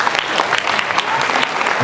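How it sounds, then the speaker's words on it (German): Audience applause for contestants at a Filipino talent contest elimination round, loud, dense and steady clapping from a crowd, running throughout with no break. "Applaus bitte nochmal"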